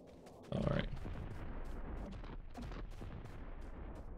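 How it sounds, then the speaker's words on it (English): Explosions burst in Atomicrops, a farming action video game: a loud sudden blast followed by a run of sharp repeated bangs and crackling impacts that keep going throughout. "there's some explosions"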